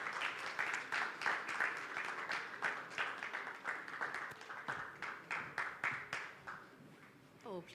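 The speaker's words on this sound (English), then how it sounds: "Please clap for them as they come up." Audience clapping at a fellowship demo day event as participants come up on stage, loose rhythmic claps rising and falling under a speaking voice, fading toward the end.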